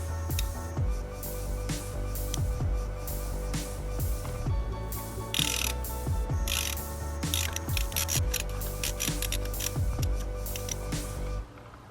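A socket ratchet clicking repeatedly while undoing spark plugs on a Ford Focus RS engine, a close series of ratcheting strokes and small metallic mechanism sounds with no talk.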